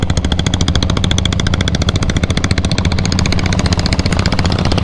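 A diesel Royal Enfield Bullet motorcycle engine thumps steadily at close range, with rapid, even, loud pulses and no voices over it.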